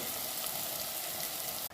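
Sliced bitter gourd and onions with turmeric sizzle steadily in a hot pan, a dense, continuous frying hiss at close range with no talking.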